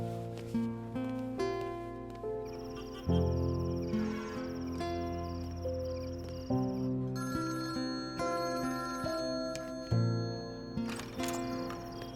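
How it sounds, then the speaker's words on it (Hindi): A phone rings with a repeating electronic melody, steady and moderately loud, looping in regular phrases with no talking. "ये आदि, जो फोन कर रही है, शायद सॉरी बोलना होगा उसे।"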